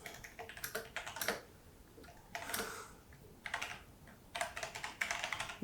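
A computer keyboard clicks in rapid bursts of typing, quiet and close, with short pauses between runs of keystrokes during .NET programming work at a desk, and no voice over it.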